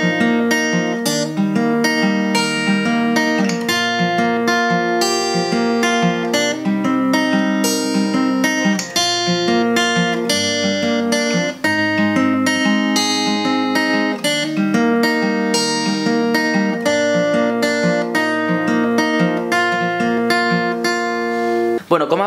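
Guitar playing the intro riff of a song, a dense, continuous run of picked notes and ringing chords that stays steady and loud throughout, with no talking.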